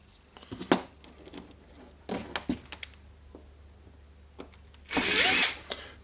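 Makita 18V BGA452/DGA452 angle grinder housing being screwed shut, a sequence of short plastic clicks and screwdriver taps followed by a brief loud whirring burst near the end.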